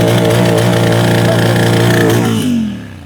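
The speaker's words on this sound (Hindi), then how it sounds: "तो जस्ट इसमें कोई भी एग्जॉस्ट मॉडिफिकेशन नहीं है, तो थोड़ा सा मैं इसका आप लोग को इसका वॉइस सुनाता हूँ।" A Royal Enfield GT650 twin-cylinder motorcycle with its stock, unmodified exhaust runs at a loud, steady throbbing idle close to the microphone, then its note drops and fades as the revs fall away.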